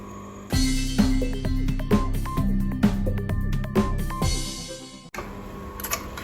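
A sewing machine stitches the straight seam of a pencil skirt in rapid mechanical bursts with clicking ticks, pausing briefly before a shorter run of stitching.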